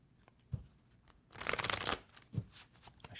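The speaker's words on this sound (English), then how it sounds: "A shuffle of the cards." A deck of playing cards riffled and bridged at close range, with a few sharp snaps around a dense, rapid burst of fluttering card noise, with no talk.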